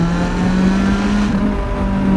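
A Lotus Elise engine hums steadily on track while engine braking, a close, even droning tone with a slight wavering pitch and no voices over it.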